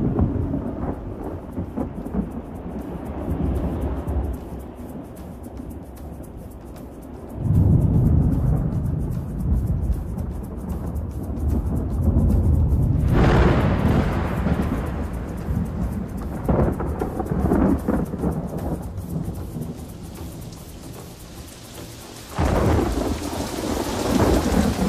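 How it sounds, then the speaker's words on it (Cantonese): Steady heavy rain falls throughout with rumbling thunder, loud crashes and rolling booms breaking in several times over a continuous wash of downpour, with no voices. "感謝充足嘅雨水降臨。"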